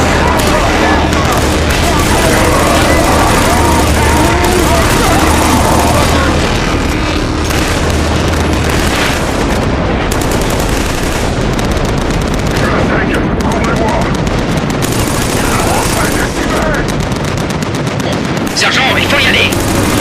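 Sustained heavy gunfire and explosions fill a battle in the video game Killzone 3, a loud, dense wall of automatic fire and booms throughout, with voices shouting beneath the din.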